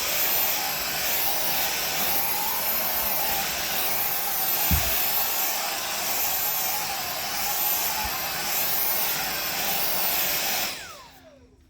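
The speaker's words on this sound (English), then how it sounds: "It doesn't have the cleaning power to really suck up the dust and debris from inside the carpeting the way you will with your Next Gen or V15" A Dyson Pencil Vac with Fluffy Cones cleaner head runs over standard carpeting, giving a steady high-pitched whine and airy rush throughout, then cutting off and spinning down at the end.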